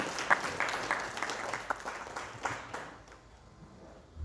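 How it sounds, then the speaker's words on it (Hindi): Audience clapping during a devotional talk about entering a temple: a short burst of scattered, moderately loud applause that thins out and fades within a few seconds. "माता जी लोगों के लिए एक बार तालियां तो बजा दीजिए जोर से"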